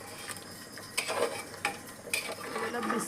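A spoon stirs goat meat curry with yogurt in a pot, soft scraping and wet clinks against the metal in a few quiet irregular strokes, close by with no talking.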